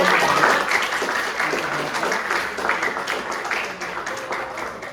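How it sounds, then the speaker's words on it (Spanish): A lecture-hall class applauds a classmate during a neurology lesson, a dense, steady clatter of many hands that is loudest at the start and continues for about five seconds before easing slightly. "Es un aplauso para su compañero."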